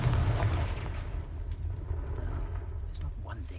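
A Confringo blasting curse explodes in a wizarding video game: a loud, booming blast hits at once and fades into a long, rumbling tail.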